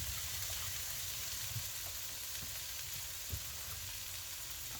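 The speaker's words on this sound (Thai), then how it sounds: "ค่อยๆผัดเข้าไปก่อนนะคะพี่น้อง ผัดเข้าไปก่อน" Steady, quiet sizzle of ingredients being stir-fried in a pan, with a few soft scrapes of stirring, continuous and even throughout.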